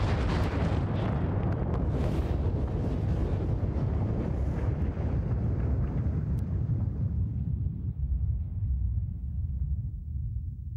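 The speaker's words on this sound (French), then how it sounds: "Elle s'effondre sur elle-même et explose." A supernova explosion sound effect: a heavy, continuous roaring rumble with a broad hiss on top that slowly fades and darkens over about ten seconds, loud and without any voices.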